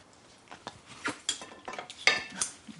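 An offset spatula smooths cream into a pastry case with soft, close, irregular scraping strokes and light metallic taps, and no talk.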